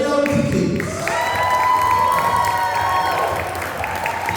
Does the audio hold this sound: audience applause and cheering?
yes